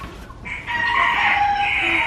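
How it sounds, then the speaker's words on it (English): Roosters and chickens at an animal shop in Versailles, a close, drawn-out crow rising over a bed of clucking and soft background fowl noise. "I'm just now following the sounds of the roosters."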